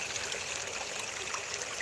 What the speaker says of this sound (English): It's just a tiny creek